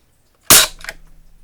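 A Crosman 760 Pumpmaster pump air rifle fires a single shot, one sharp close crack followed by a short faint metallic rattle.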